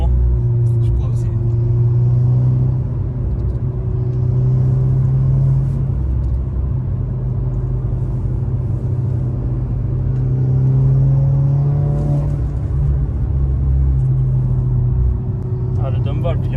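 A Volkswagen Golf 6 R engine rumbles steadily from inside the cabin, swelling as it revs partway through with its dump valve, while people talk over it.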